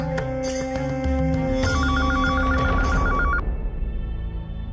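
A telephone rings in a Marathi TV serial scene with a loud, electronic trilling ring: several bursts in quick succession, the last one stopping abruptly. No one speaks during the ringing.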